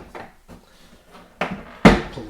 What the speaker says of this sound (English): So to unlock it, you just pull these down.